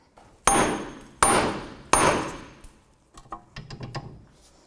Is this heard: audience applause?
no